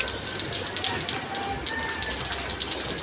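Steady rain falling at midday, a dense continuous hiss of drops on surfaces with no break, close and fairly loud throughout.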